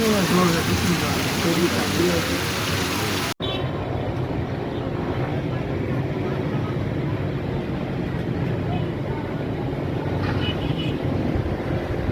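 Heavy rain pours down in Sindh in a dense, constant hiss, loud and close, with a brief cut partway through and faint voices in the background.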